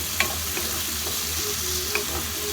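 Small diced potatoes frying in oil for a Filipino ground meat omelette, a steady close sizzle with occasional stirring clinks and scrapes, no talking.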